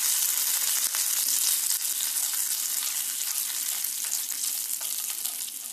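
A tablespoon each of urad dal and chana dal fry in hot oil for rava idli, giving a loud, bright, continuous sizzle with light crackles throughout.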